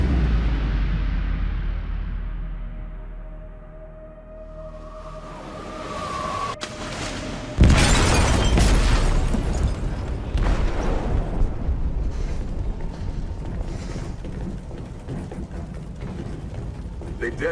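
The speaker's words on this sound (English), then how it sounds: "They detonated an explosive in the hold." An explosive detonating in a ship's hold in the video game Detroit: Become Human: a sudden heavy boom that turns into a long roaring, rumbling wash of noise and debris, with a low hum building before the blast.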